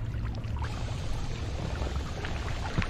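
Water poured in the video game Noita, a continuous splashing trickle with scattered droplet ticks and a low rumbling bed throughout.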